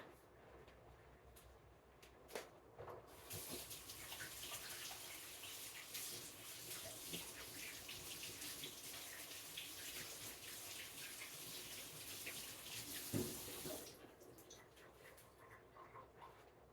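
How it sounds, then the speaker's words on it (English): Water runs steadily from a faucet into a sink during handwashing, a continuous soft splashing flow of about ten seconds, quieter at the start and end, with faint clunks. "I'm going to wash my hands"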